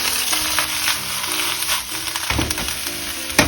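Tom yum ingredients stir-fry in plenty of olive oil in a pan, a steady close sizzle with bursts of crackle and scraping as they are stirred.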